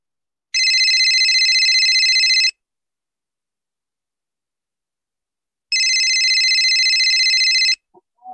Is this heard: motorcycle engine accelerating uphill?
no